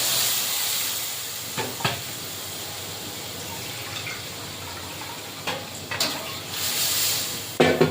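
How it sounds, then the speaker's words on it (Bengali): A sour fish curry with mustard paste and soaked dried mango boiling in a pot gives a steady close bubbling hiss, broken by a few brief clatters and knocks. "টকটা ফুটে গেছে"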